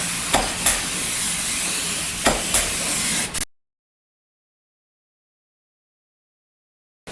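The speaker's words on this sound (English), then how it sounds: "we're cutting it down with 220 grit sandpaper and taking it down" Sandpaper at 220 grit cutting wax off a floor finish, a steady dry scratchy rasp with a few sharper strokes, close and fairly loud, lasting about three seconds before cutting to silence.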